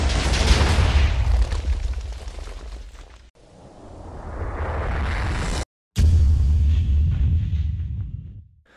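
TNT blowing up in a Minecraft trap: a loud blocky explosion boom, a rushing whoosh and a falling swoosh, a sudden cut to silence, then another heavy blast that fades out.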